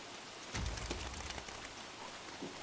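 Rain falling in the video game Don't Starve, a steady broadband hiss with a louder gust-like swell near the start that settles back into an even patter.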